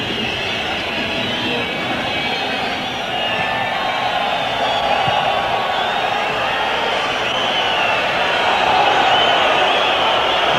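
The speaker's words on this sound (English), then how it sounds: "this is the crowd's understandable reaction" A loud stadium football crowd at the 1986 Morocco vs West Germany match roars, whistles and chants in a dense, sustained wash that swells slightly toward the end, with faint commentary underneath.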